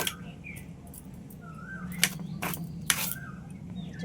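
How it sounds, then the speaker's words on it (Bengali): A knife cuts very young, tender jackfruit into small pieces by hand in a home kitchen, giving a few sharp, separate knocks against a quiet background with faint bird chirps. "এঁচড়গুলো একটু এরকম ছোট ছোট করে কেটে নিচ্ছি।"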